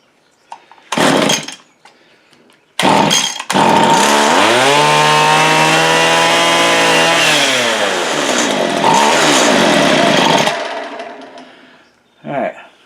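A hard-starting Stihl FS85 Pro string trimmer sputters through two short pull attempts, then catches and runs loud and close for several seconds, its engine pitch sagging and rising before it cuts off and a brief noise follows.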